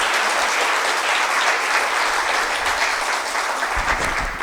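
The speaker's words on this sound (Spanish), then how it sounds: "Pues le vamos a dar otro fuerte aplauso" A conference audience gives a pharmaceutical chemist a strong round of applause, a dense, steady, loud clapping that fills the whole stretch with no voices over it.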